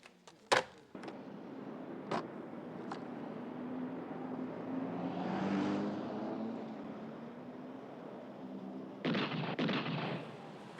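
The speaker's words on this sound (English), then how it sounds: "This is R07 Charles responding to gunshots fired inside our stakeout" Gunshots ring out inside a stakeout in a crime TV drama: a few sharp, loud cracks spaced over several seconds, then a burst of close rapid shots near the end, with a steady rumbling background between them.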